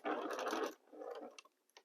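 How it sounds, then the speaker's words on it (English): A sewing machine stitches quilt seams in a steady whirring run that stops, then a softer, shorter run follows with a few light ticks, heard close and alone. "And continue sewing."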